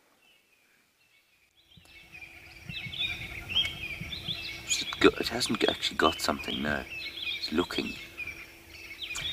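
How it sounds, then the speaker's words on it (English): On an African sunrise safari, robins and other birds call with bright, repeated chirps and whistled phrases, fairly close and lively, while people speak quietly beneath them. "Listen to the birds calling, robins mainly."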